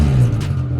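A Scion FR-S fitted with a loud UEL Subaru rumble exhaust revs close by, giving a brief, throaty, gargling burst of engine noise.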